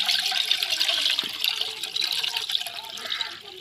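Ice water pours steadily onto cooked pasta in a kitchen, a continuous close splashing and trickling stream that tapers off slightly at the end.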